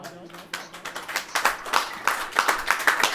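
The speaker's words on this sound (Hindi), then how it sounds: "ताली बजाओ" Scattered hand claps build into a quick, uneven round of clapping from a small church congregation during a sermon, fairly close, with some talk underneath.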